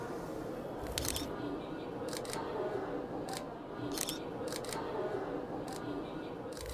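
Close camera shutter clicks at about 1/1000 second, fired singly and in quick pairs over a steady city crowd murmur at Shibuya.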